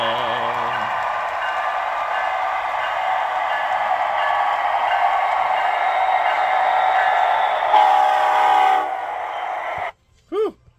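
Model train arriving on its track with a steady, drawn-out electronic whistle tone that runs for several seconds, then stops, followed by a couple of short chirping blips at the end.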